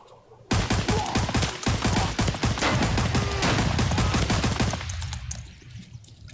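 Dense bursts of rapid automatic gunfire ring out in Escape from Tarkov as a scav is shot repeatedly, loud, sharp cracks crowding together for about five seconds before stopping abruptly.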